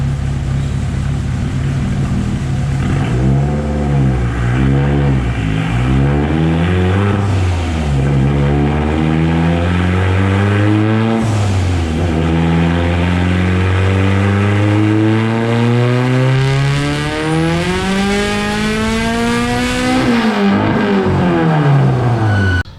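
A Mitsubishi Evo 8 with a turbocharged 4G64 engine revs hard on a dyno, loud and continuous, climbing in pitch through several pulls before a long sustained rise to the top and a sharp drop at the end.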